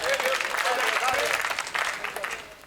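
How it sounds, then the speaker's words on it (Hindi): Audience applause at a Hindi comedy poetry show, a steady wash of clapping from a crowd that holds for about two seconds and then fades. "एक बार ताली माली तो बजाओ।"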